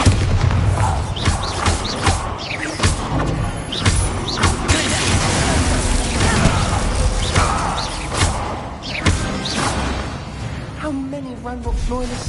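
Bombarda blasting spells erupt in Hogwarts Legacy combat, loud booming blasts and thuds recurring through dense battle noise, with a voice speaking over the fighting.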